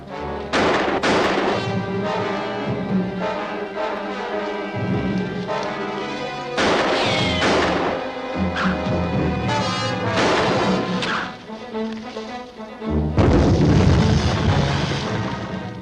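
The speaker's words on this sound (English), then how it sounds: "Must be an African hand grenade." Hand grenade explosions in a 1953 jungle adventure film set in Africa, a run of loud booming blasts and crashes over a dense score, with one heavier detonation near the end.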